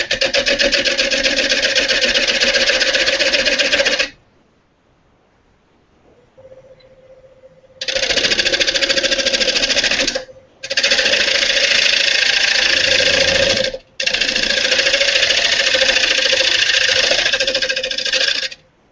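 Wood lathe turning the bottom of a bowl, a steady loud whirring hum with a rhythmic knocking as the tool skips on the uneven surface, cutting in several long bursts separated by short pauses.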